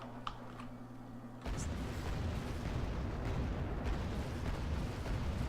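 Artillery in a strategy game fires into a forest, a sudden heavy rumbling barrage that sets in and keeps booming and crackling steadily at a distance, with no talking.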